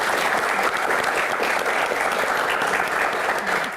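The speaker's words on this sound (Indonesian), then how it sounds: "langsung saja kita berikan tepuk tangan dulu untuk Ibu Dwi Korita" Sustained applause from a live audience honoring Ibu Dwi Korita at a BMKG Q&A event, a dense, steady clapping wash at close range with no speech over it.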